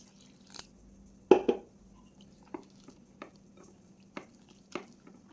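Water is stirred little by little into a flour batter for fried bananas, producing quiet, sparse wet squishes and soft clicks of the spoon against the bowl, spaced irregularly in an otherwise quiet room.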